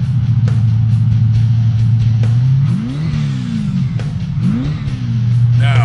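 A 1968 Chevy Camaro muscle car's engine rumbles loudly at idle, then revs up sharply several times in quick bursts, close and dominant with no talk.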